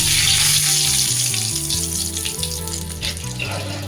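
A spoonful of bay leaves frying in hot oil for a Bengali prawn curry, with a loud, steady, close sizzle that eases slightly as it goes on.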